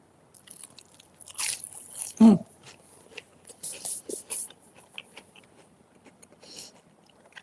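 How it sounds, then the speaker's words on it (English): Crunchy crumbed eggplant with baba ganoush is bitten and chewed close up: one loud crisp crunch, then softer intermittent crackly chewing sounds that fade toward the end. "I'm just going to eat some more eggplant and baba ganoush."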